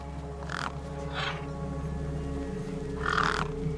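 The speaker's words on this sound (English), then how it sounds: "The gang birds were eyeing up the corpse hungrily." Crows caw in a Beyond a Steel Sky game scene, three harsh calls spaced apart over a steady low hum of background ambience, with no talking.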